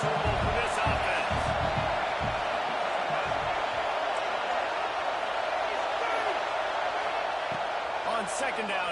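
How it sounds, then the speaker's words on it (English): A college football stadium crowd at Texas A&M vs Notre Dame sends a continuous broad roar and noisy rumble through the whole stretch, loud and distant-sounding, with muffled thumps early on. "This crowd trying to make life miserable for this offense."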